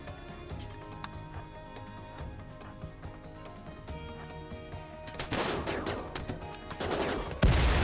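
Gunfire in a RimWorld tower-defense battle against grenadiers: rapid volleys of game gunshots rattle under background music, growing denser and louder in the final seconds.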